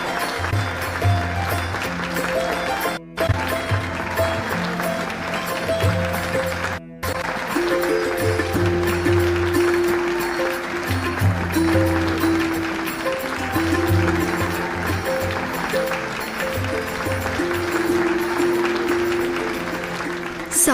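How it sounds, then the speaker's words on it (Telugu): Audience applause for a young dancer named Latika after her performance at a stage dance competition. The clapping is steady and continuous, running under background music from start to finish. "లతిక కోసం మళ్ళీ మరొకసారి గట్టిగా చప్పట్లు కొట్టండి."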